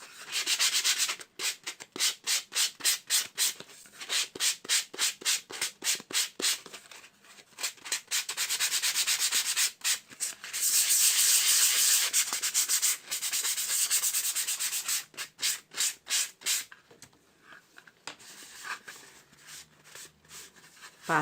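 Sandpaper is rubbed by hand across an MDF wood piece in quick, rhythmic back-and-forth strokes. The close, scratchy rasps come in regular bursts, with one longer continuous stretch midway and a few slower strokes at the end.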